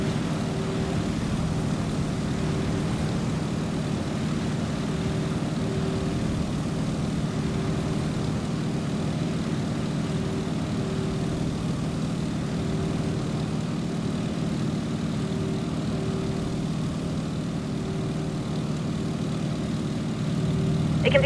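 A Stearman biplane's propeller engine in Microsoft Flight, set to full prop RPM, holds a steady, loud, unbroken drone for the whole stretch with no talking.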